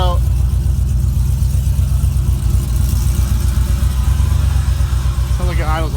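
A tuned truck engine idles nearby, a loud steady low rumble with an even pulsing throb, and a voice speaks briefly over it near the start and end.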